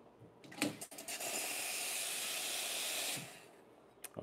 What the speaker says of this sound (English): Let me show you how I steam the milk.